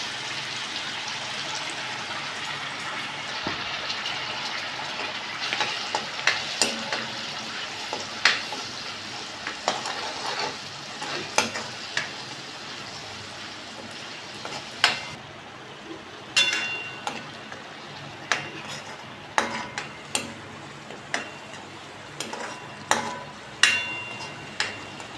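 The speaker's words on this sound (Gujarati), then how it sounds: "પછી આપણે ડુંગળીનો પેસ્ટ નાખશું।" Onion paste frying in a pan for a Gujarati hotel-style paneer curry: a steady soft sizzle with repeated sharp clacks of a spoon stirring and scraping, rhythmic and close, no voices.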